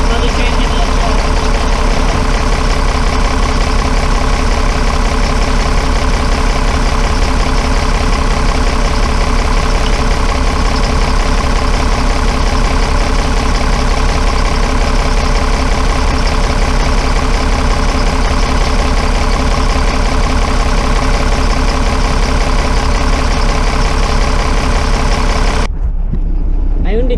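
A steady engine with fueling issues idles close by, a continuous low throbbing hum that holds an even tone, then cuts off abruptly near the end.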